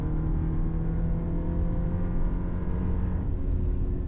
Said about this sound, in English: You can hear the engine is vocal.